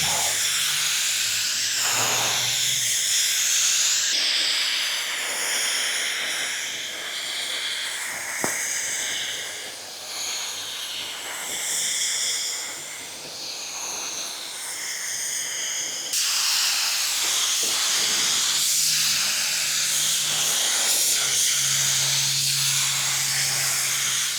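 A Porphis PRD 815 paint spray gun lays down a quick drop coat, giving a steady airy hiss that runs in long passes, briefly dropping between strokes before resuming at full strength.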